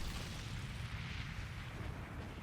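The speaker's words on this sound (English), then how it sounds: "I was in an explosion for the second time in this timeline" A video game explosion in The Hundred Line: Last Defense Academy produces a low, sustained rumbling roar that stays faint and even, with no voices over it.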